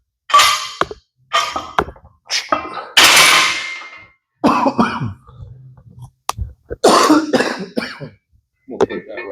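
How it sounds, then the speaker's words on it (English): A man coughs and clears his throat repeatedly during a weightlifting warm-up, several harsh bursts spread across the stretch, with a few clanks of gear in between. "I'm gonna try not to cough as much, but I can't help it."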